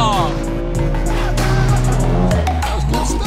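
A car drives hard with tires squealing loudly as the engine revs, sustained and close, with people talking over it.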